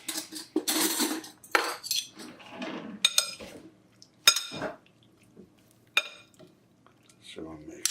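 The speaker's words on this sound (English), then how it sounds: "So I'm mixing it." Metal utensils clink and scrape against a bowl while pork tenderloin marinade is stirred, producing irregular bursts of clatter with short pauses, and a person talks in between.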